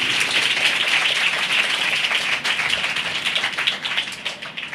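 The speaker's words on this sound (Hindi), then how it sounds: "सभी लोग ताली बजाकर धन्य यीशु बोलिए" A church congregation at a Hindi-language worship service claps hands together in a loud, dense, continuous patter that fills the room, with no speech over it.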